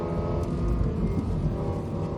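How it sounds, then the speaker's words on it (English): Lexus LFA V10 engine droning steadily from inside the cabin, a dense low rumble with layered harmonics holding at an even, loud level throughout with no speech. "That engine is just, it's, you have to be in here to truly believe what it sounds like."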